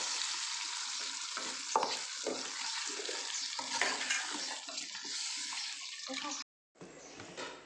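A spoon stirs drumstick leaves and dal in a pan, a steady sizzling hiss with scraping strokes and scattered clinks before a brief drop to silence near the end.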